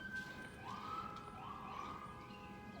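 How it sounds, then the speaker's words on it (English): An ambulance siren wails in the distance, rising and falling in repeated sweeps over steady background traffic noise. "it's the ambulance this time"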